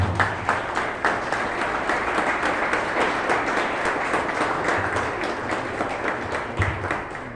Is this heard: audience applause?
yes